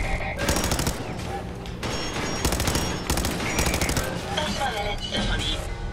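Bursts of rapid machine-gun fire aimed at a junk robot's torso in Fallout 4, loud crackling volleys in several clusters separated by short pauses, with a voice speaking faintly between them.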